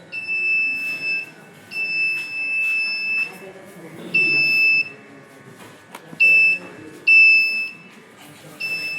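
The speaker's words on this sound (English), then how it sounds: "buzzer sounds." A touch-sensor doorbell buzzer sounds in repeated shrill electronic beeps of uneven length, loud and close against a quiet room, with faint voices murmuring underneath.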